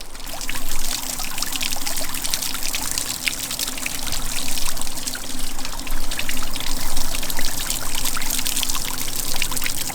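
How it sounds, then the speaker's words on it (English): Water pours and trickles steadily over the edge of a concrete water feature, a continuous splashing flow with no voices, loud and close throughout. "force the water in a certain direction and see if we can change the shape of the flow"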